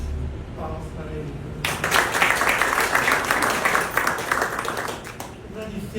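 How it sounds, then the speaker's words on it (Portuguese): A brief voice in Portuguese gives way to a sudden burst of applause from an audience at a formal ceremony, steady clapping that continues loudly to the end. "Palmas para ele."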